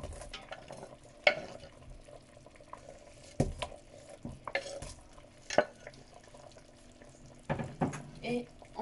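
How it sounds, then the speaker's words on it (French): Chopped onions go into meat frying in a pan for a Moroccan prune tajine, giving intermittent stirring scrapes and soft sizzling with a few sharper clatters, close and moderately loud, no talk. "On va ajouter les oignons hachés."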